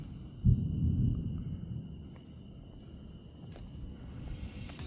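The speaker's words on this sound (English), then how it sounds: "It is thunder and lightning." Low, distant thunder rumbles steadily in the background, swelling near the start and then fading, alongside a faint steady high hum.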